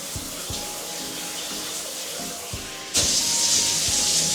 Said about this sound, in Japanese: パワーヘッドシャワー、これはモード変更ある。